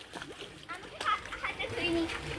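A child splashes and dives in a village pond, with close, irregular bursts of splashing and sloshing water while voices talk over the commotion.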